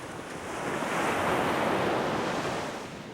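Ocean waves churned up by a powering boat rush and surge in a steady broadband wash, swelling toward the middle and easing off, with wind noise buffeting the microphone.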